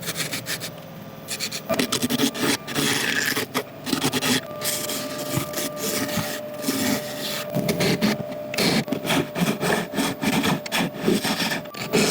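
Yew crotch wood spinning on a lathe under abrasive, with a steady rasping, rubbing hiss and repeated short scraping strokes, close and fairly loud, with the lathe's motor hum beneath.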